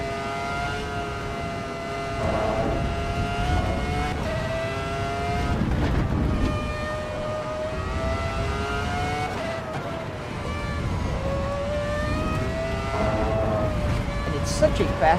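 A 2004 Ferrari's engine in a Volvo driving simulator game revs and holds through repeated rises and dips in pitch as the car accelerates and corners, with someone talking over the continuous engine note.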